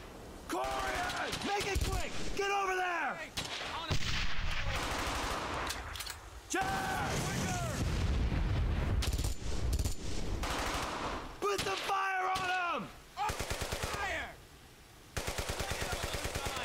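Sustained machine-gun and rifle fire crackles through a World War II firefight in the video game Brothers in Arms: Hell's Highway, with bursts and rapid single shots mixed under shouting soldiers' voices.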